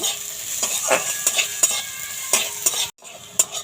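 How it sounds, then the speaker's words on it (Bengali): Sizzling of capsicum and green chillies in a hot pan punctuated by quick scraping strokes of a spatula stirring them, close and continuous, briefly cutting out near the end. "এবার ক্যাপসিকামটা আর কাঁচা লঙ্কা কুচিটা দিয়ে দিচ্ছে দিয়ে এটা একটু হালকা করে ভেজে নেব"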